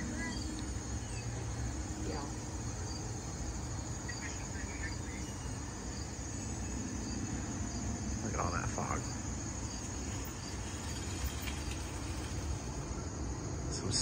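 Crickets chirp steadily from a Halloween yard-decoration sound effect outdoors, a dense continuous insect trill under a broad wash of background noise, with faint scattered sounds and a brief voice passing through.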